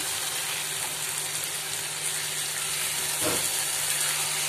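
Chicken pieces go into a pan of frying spices for Mughlai chicken gravy and are stirred in. A dense, continuous steamy sizzle fills the whole stretch, with one brief louder scrape-like burst near the end and no speech.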